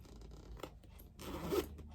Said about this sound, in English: that zipper in the back